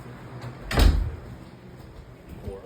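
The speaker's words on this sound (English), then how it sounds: "Open the door." A house door swings open indoors, a single short thump and rustle of movement, fairly close, with quiet room noise around it and a faint broadcast in the background.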